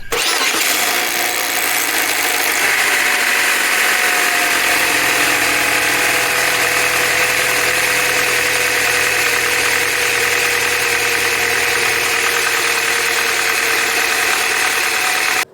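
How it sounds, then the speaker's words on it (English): A 2005 Chevrolet Cavalier engine cranks and settles into a steady idle, with a persistent metallic timing chain tensioner rattle running over the hum throughout. "change a timing chain tensioner on a 2005 Cavalier that is causing this sound at startup"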